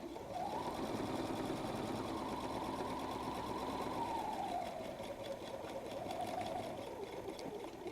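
Home sewing machine running steadily at a 2.5 stitch length, stitching across the pocket flap of a fabric messenger bag; a continuous close, even motor whir with rapid needle clatter that lingers nearly eight seconds without a pause.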